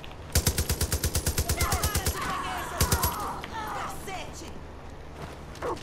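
Rapid bursts of automatic gunfire from a weapon in the video game Far Cry New Dawn, a fast run of about a dozen shots followed by a shorter burst a second later, with game sounds and a voice under them.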